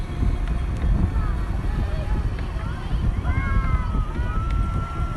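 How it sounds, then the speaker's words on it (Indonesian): Strong wind buffets steadily at Pasir Padi beach on Bangka island, a continuous low rumble of gusts against the microphone with faint higher tones drifting over it. "Tapi sayang angin terlalu kencang."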